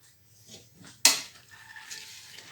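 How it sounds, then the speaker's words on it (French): Lentils and tomato sauce tipped into a cooking pot, landing with one sharp clatter near the one-second mark, then a softer rustle and a faint metallic ring that fade over about a second. "je mets le tout dans ma cocotte."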